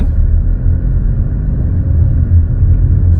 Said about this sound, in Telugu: గేర్ చేంజ్ అయిపోయింది, సెకండ్ గేర్ చేంజ్, బట్ ఎటువంటి చిన్న స్మాల్ జర్క్ కూడా లేదు సార్